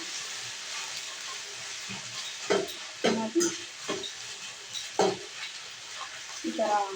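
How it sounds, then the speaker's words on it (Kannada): Ridge gourd chutney ingredients frying in oil in a pan, a constant close hiss and sizzle with louder bursts as they are stirred every second or so. "ಇದು ಎಣ್ಣೆಯಲ್ಲೇ ಚೆನ್ನಾಗಿ ಫ್ರೈ ಆಗಬೇಕು"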